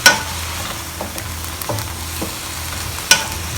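Dark soy sauce and Shaoxing wine stirred together as a seasoning mix, a few light clinks and scraping strokes against the bowl, with sharp taps near the start and toward the end over a soft background hiss.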